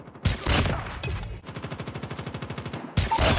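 Bursts of automatic gunfire in Call of Duty Mobile, a rapid rattling volley of around twenty evenly spaced shots between heavier blasts at the start and end, loud and close.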